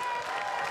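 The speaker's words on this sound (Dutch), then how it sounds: "Echt applaus voor jezelf gewoon." A short, dense burst of crowd applause from an audience at the People's Climate March in Amsterdam, with steady clapping that stays loud and even throughout.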